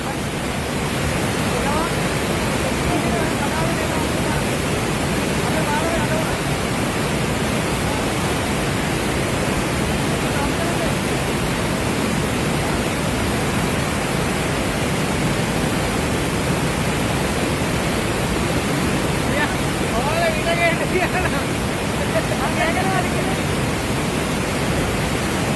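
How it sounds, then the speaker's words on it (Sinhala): Floodwater rushes in a dense, steady roar that rises suddenly, like a dam being released, filling the whole stretch loudly and evenly with broadband noise. "මෙහෙම එකපාරට වතුර වැඩි වෙන්නේ. ඩෑම් එකක් ගන්නවා වගේ."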